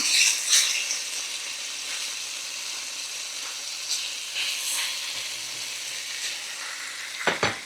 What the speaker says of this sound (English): while our pork chops are browning over here